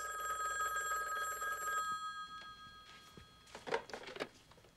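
A telephone bell rings in a home with a bright, sustained electronic trill for about two seconds, then stops, followed by quiet room sounds and a short rustle near the end.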